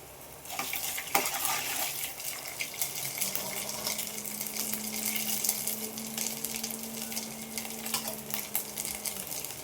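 Crushed garlic, four cloves, sizzles steadily in hot oil in a pan for chitranna lemon rice, with scraping stir strokes and small clicks over a continuous near frying hiss.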